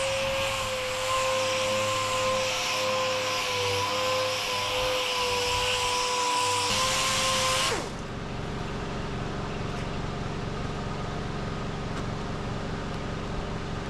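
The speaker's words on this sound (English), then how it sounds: "I hear my compressor kicked in." An old air compressor in a car paint workshop drones loudly and steadily, its motor whine dropping in pitch and the hum thinning out partway through as it settles into a lower, continuous running tone.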